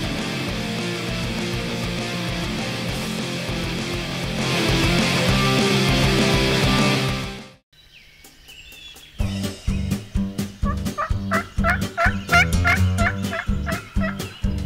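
Wild turkeys gobbling outdoors on a spring morning, one long rolling burst of gobbles first, then after a short pause a quick run of sharp, loud gobbles in close succession, nearby and clear with no talking.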